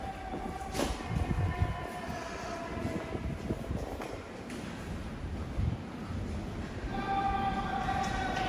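A New York subway train rumbles and screeches through a station, steady rolling noise with sustained metallic squeal tones rising near the end, fairly close, with no talk.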